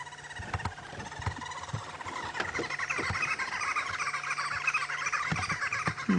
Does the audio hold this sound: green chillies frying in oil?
no